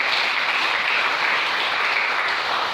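A church congregation claps and cheers in loud, dense, sustained applause that fills the room evenly from start to finish.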